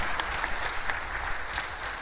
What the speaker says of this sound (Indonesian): Kasih tepuk tangan untuk Tuhan kita.